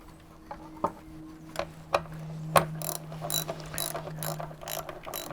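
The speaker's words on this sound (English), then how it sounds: "we can start tightening things down" A ratchet tightens the taillight bolts on a Jeep TJ with close, crisp clicking, first in a few separate pulls and then in a faster run of ratchet strokes. No one speaks.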